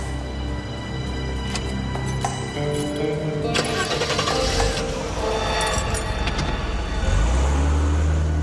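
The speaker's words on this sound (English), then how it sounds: "Start the car, drive." A car engine cranks and catches, then idles and revs steadily as the vehicle pulls away, with a louder low rumble near the end.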